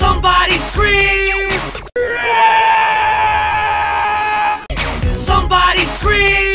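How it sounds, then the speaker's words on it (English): Loud human screams and shrieks in a screaming collaboration, with short yelled bursts at the start and end around one long sustained, wavering scream in the middle. "Somebody scream!"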